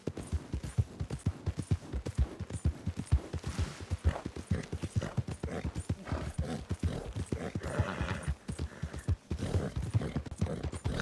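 Rapid, rhythmic horse hoofbeats in the video game Red Dead Redemption 2 clip-clop continuously at a trotting pace, crisp and close, with occasional snorting and faint background effects.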